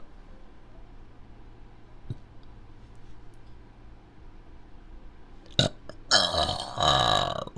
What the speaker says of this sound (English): I'm gonna burp, so you might wanna lower your volume or up it